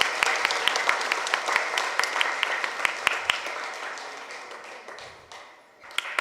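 An audience at a health workshop claps loudly together, a busy patter of many hands with sharp louder claps standing out, gradually thinning and fading before a few last claps.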